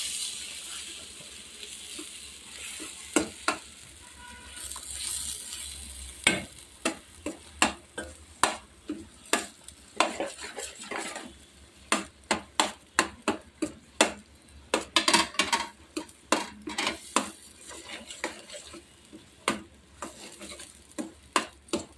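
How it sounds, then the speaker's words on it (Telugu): Chopped onions are stirred into a pani puri filling in a bowl, giving repeated soft scraping and clicking strokes in an irregular rhythm, close and fairly quiet, with no talking. "ఉల్లిపాయలు అన్నీ వేసేసుకొని దీన్ని కలిపేసుకోవాలి దాంట్లో కలిపేలాగా."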